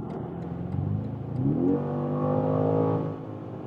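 A 2025 BMW M5 sedan's engine pulls hard on the German Autobahn, revving up in a rising, steady acceleration heard up close from inside the car, with no talking.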